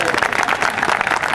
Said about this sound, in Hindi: आप तो पीछे बहुत अच्छी ताली बजी